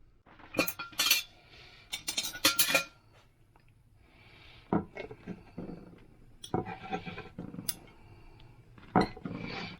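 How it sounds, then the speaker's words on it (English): A knife and fork clink and scrape against a plate while someone eats a chicken, spinach and feta stir-fry. Bursts of sharp metallic taps and scratches come up close, with quiet pauses between them and no talking. "I would eat that with a knife and fork"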